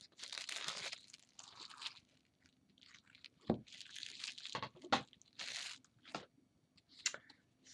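Tight plastic shrink wrap is peeled off a tarot card deck, making close, crisp crinkling and tearing bursts separated by brief pauses and sharper snaps.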